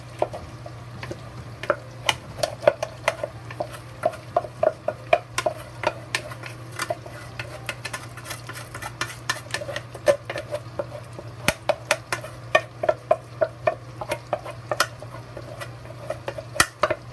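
Rice being stir-fried with bacon and softened onion in a pan, giving steady quiet sizzling under dense, irregular clicks and scrapes of a utensil against the pan, with no talking.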